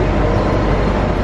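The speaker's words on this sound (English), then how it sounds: "This is the Disney train." The Disney train at Hong Kong Disneyland, a loud, steady rumble of a moving rail car heard from on board, with no pauses or voices.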